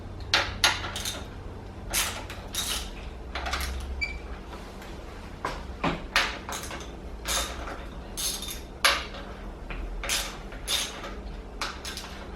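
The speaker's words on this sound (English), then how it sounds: "loosen the lower triple clamp pinch bolts" Dirt bike lower triple clamp pinch bolts being loosened, a series of close metallic clicks and ratchet taps in irregular bursts over a low steady background hum.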